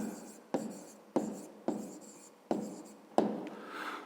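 Pen writing on paper for a fifth-grade maths exercise, six quick scratchy strokes each starting sharply and fading, close and quiet, with no talking.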